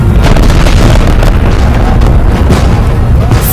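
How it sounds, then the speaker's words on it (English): Cannon shelling in a staged scene of a Napoleonic street battle near a Paris church gives heavy, continuous booming explosions, loud and rumbling for the whole stretch. "Napoleon brought his cannon to within 60 paces of this church before shelling"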